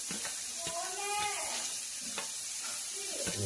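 Green chilies drop into hot oil and hiss with a steady, close frying sizzle, broken by a few sharp crackles and stirring clatters, with occasional voice sounds underneath.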